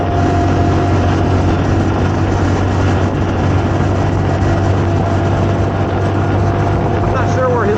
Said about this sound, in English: you can kind of hear the note of the two-stroke here, kind of cruising along